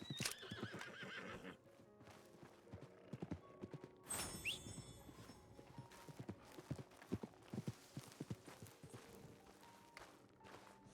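Video game horse heard near and clear, a whinny early on followed by steady clip-clopping hooves and scattered footfalls, with little else around it.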